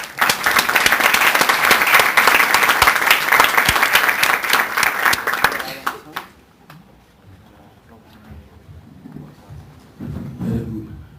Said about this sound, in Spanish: Les pido un cordial aplauso para darles la bienvenida.